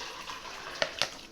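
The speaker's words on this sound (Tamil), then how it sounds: "இப்போ நம்ம செஞ்சு வச்ச இந்த சோயாபீன் தண்ணி இதில் ஊற்றிடுவோம்." Homemade soybean liquid for soy milk poured into a pot on the stove, a soft continuous watery gush with two brief splashy bursts near the end, no voices.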